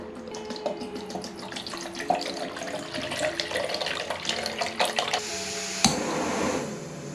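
Tap water runs and splashes steadily into a container to be heated for cooking, with bubbling fill sounds close by and a sharp clunk near the end, no talking.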